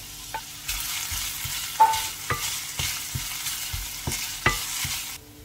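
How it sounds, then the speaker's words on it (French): Ginger sizzles steadily in olive oil in a frying pan for a beef dish. A utensil stirs it with sharp scraping clicks that recur at uneven intervals over the constant close frying hiss. "je vais commencer par revenir les gingembres en premier parce que c'est un petit peu long à cuire"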